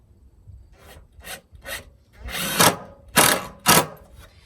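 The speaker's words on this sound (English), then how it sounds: "I'm not drilling the screw in very deep." Several short bursts of a drill driving a screw into wood, growing louder and longer toward the end, close up with pauses between.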